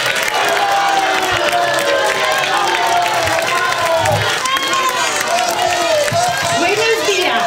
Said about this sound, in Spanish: Escuchen, escuchen cómo la vitorean sus vecinos